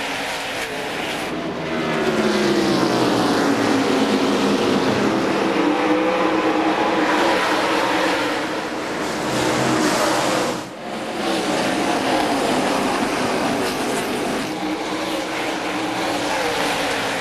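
NASCAR stock cars racing at Bristol in the 2001 Sharpie 500 make a dense, continuous roar of engines that swells and dips slightly as the pack passes, loud and steady for the whole stretch.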